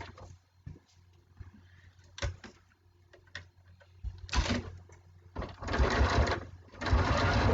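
A domestic sewing machine stitches quilt binding along a folded edge, with a few quiet clicks and taps followed by louder bursts of rapid mechanical whirring, close by.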